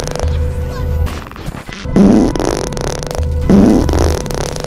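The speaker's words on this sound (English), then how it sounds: "It's just the fart noise now." A loud, blaring fart noise effect repeats over voice chat during a Back 4 Blood game, with rumbling low bursts alongside mixed game and chat noise.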